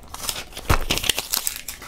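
A paper receipt crinkles and rustles in quick, close handling while the contents of a wallet are emptied out, a short burst of crisp crumpling sounds.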